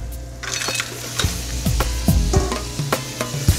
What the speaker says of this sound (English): starts out with a saute pan and some oil. Then we do a little bit of garlic and a little bit of shallots. I add my mussels.